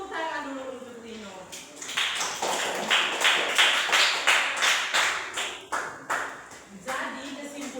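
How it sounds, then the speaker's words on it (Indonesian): A classroom audience claps in quick rhythmic unison for a student named Tino, a loud run of claps lasting several seconds, with talking just before and after. "tepuk tangan dulu untuk Tino"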